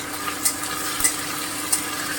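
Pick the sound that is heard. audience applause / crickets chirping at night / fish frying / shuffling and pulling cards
fish frying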